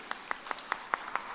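Faint, evenly spaced hand claps, about six in slow steady rhythm, sound at a panel event, thin and somewhat distant rather than a full crowd.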